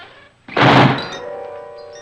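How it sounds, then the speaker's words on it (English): Heavy door of solid steel swinging shut with a single loud, close thunk in an old haunted house, followed by a ringing metallic resonance that lingers and slowly fades. "Who closed the door?"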